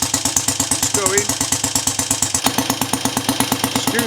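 A Scrambles Cub motorcycle engine runs after a cold start, a steady, rapid, near thumping idle that keeps an even rhythm throughout.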